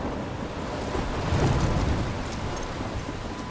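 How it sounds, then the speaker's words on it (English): Steady heavy rain with rolling thunder swelling mid-way, from a stormy lighthouse scene in the video game Life is Strange; a dense, continuous downpour with no voices. "I'm trapped in a storm?"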